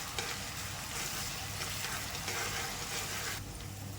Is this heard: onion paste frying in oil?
yes